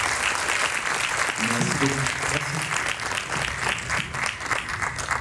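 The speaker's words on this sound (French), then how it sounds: "Je crois qu'on peut l'applaudir." Sustained audience applause after a startup pitch at an innovation event, a dense continuous wash of clapping filling the room, with someone briefly speaking over it midway.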